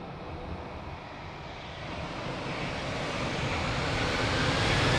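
An airplane roars down runway 02 at Lisbon Airport on its takeoff run, a broad, steady engine rumble that grows slowly louder over the whole stretch.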